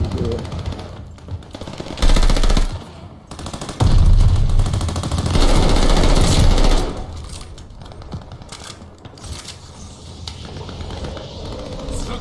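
Dense bursts of rapid automatic gunfire and explosions from Call of Duty: Vanguard, loud and chaotic, with speech-like sounds mixed in.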